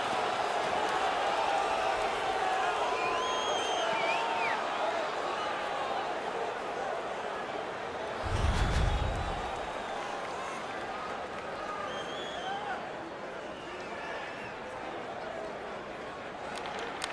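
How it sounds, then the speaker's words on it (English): Hockey arena crowd at an NHL game on its feet, a dense sustained roar of cheering and noise running throughout, with a brief low thump near the middle. "The crowd is on their feet, and they're trying to give their teams a little spark."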